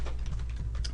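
Computer keyboard typing, a quick run of close key clicks in an uneven rhythm, fairly loud over a low background hum with no talk.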